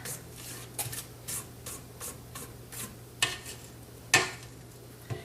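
A spatula scrapes around the sides of a mixing bowl of rum cake batter, a series of soft, close, rhythmic swipes and rubs with a couple of sharper scrapes near the end.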